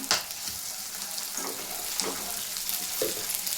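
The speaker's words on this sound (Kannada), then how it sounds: "ಈಗ ನೋಡೋಣ ಈರುಳ್ಳಿ ಫ್ರೈ ಆಗ್ತಿದೆ" Onions frying in a pan, a steady broadband sizzle running throughout with a few brief stirring scrapes, close and fairly loud with no talk.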